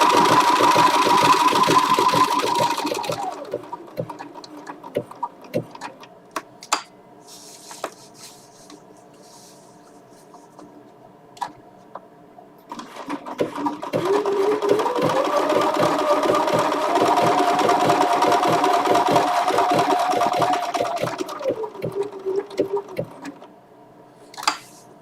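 A Bernina sewing machine stitches in two long runs, a close steady whirring hum that speeds up and slows down, separated by a quieter pause filled with small clicks and handling of fabric.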